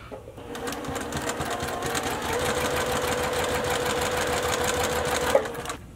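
Domestic sewing machine stitching along a drawn line on a quilting fabric square, a steady close whirring run of needle strokes for about five seconds, starting and stopping cleanly with no talk.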